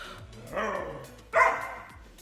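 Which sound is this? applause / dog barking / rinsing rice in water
dog barking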